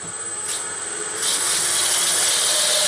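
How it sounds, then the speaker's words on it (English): A 3/8 beading parting tool plunges into spinning wood on a lathe to cut a tenon for a goblet, giving a steady, close, bright scraping hiss that grows louder and denser partway through. "my 3/8 beading parting tool, to create my tenon"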